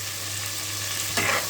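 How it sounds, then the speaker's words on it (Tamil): Tomatoes frying with rock salt in a pan for tomato rice, a steady close sizzle with a brief louder burst of frying or stirring near the end. "உப்பு போட்டதுக்கு பாருங்கள், தக்காளி பாருங்கள் இந்த அளவுக்கு நல்லா வதங்கிடுச்சு"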